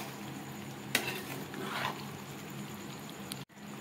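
Sugar syrup simmers gently on a low flame for a raw mango pickle, giving a soft, steady bubbling hiss with a light clink near the start and a brief dropout near the end.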